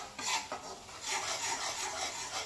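A spoon scrapes and swirls through almond soup thickened with maida in a pan, making a continuous soft rasping stir with a few sharper clinks against the metal and no voices.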